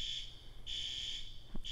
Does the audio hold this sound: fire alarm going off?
yes